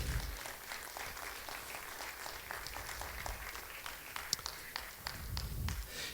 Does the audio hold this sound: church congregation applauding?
yes